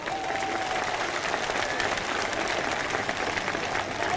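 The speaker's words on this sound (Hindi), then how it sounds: "एक बार जोरदार तालियां" Sustained applause from a rally audience for the singers, a dense steady clatter of many hands clapping at moderate distance without a break.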